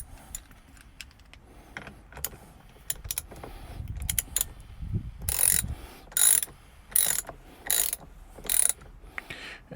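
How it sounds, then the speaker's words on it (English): A torque bar ratchets as it tightens a bolt on a Hansshow yoke steering wheel in a Tesla Model 3/Y, several close, crisp bursts of clicking after softer rustling and handling noises. "you're going to want to get a torque bar and tighten this right up"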